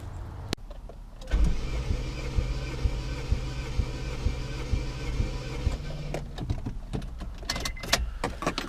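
A turbocharged Honda CR-V engine cranks over on the starter during a cylinder compression test, giving a steady rhythmic chugging of even pulses for several seconds at close range before it stops.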